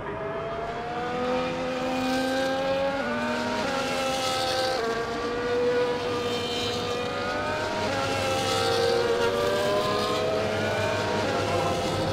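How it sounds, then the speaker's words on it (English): Many F1 24 race cars idle and rev together on the starting grid at Jeddah, a steady layered engine drone with rising and falling harmonic tones running throughout, no talk. "as all the cars take their positions on the grid"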